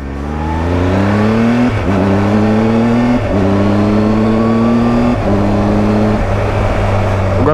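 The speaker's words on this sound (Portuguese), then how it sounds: "Vamos ver esse kickshifter funcionando?" A Triumph Tiger 1200 XCA motorcycle pulls hard with a loud, steady engine drone, its pitch climbing and then snapping down at four quick, clean quickshifter gear changes.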